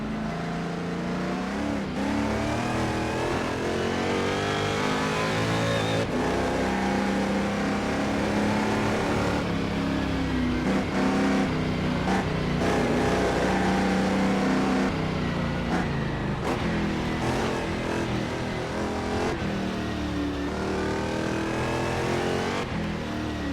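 A Chaparral 2D race car engine howls steadily through a full lap, loud and continuous, with the pitch repeatedly rising under acceleration and dropping into corners over about twenty seconds.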